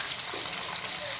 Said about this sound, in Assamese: এয়া চাওক ভাজি আছোঁ,